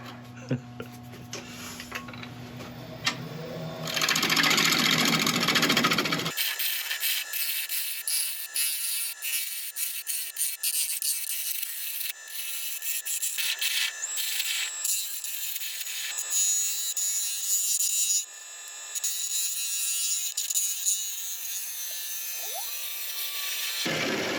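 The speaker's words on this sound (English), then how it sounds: "It's a wonderful mix of hard and soft woods here, so it's good fun turning." Wood turning on a lathe: a chisel cuts a bowl made of mixed hard and soft woods, making loud, harsh, scraping cutting noise in uneven bursts after a quieter start with the lathe motor humming.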